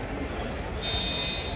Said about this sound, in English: Somebody pulled the alarm.